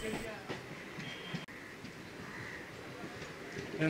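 A Kolkata Circular Railway train runs along its line with a steady rumble and faint rattling, heard from on board at a moderate level with no clear talk.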